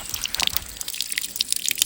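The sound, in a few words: spring water flowing from a village tap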